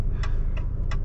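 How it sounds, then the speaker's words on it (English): A 2023 Maserati Grecale's turn signal ticks three times at an even pace inside the cabin, crisp clicks over a low engine and road hum. "Indicator gets annoying sometimes."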